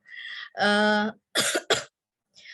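Several hoarse coughs from a person with flu in quick succession, close up, with brief pauses between bursts and a final softer cough.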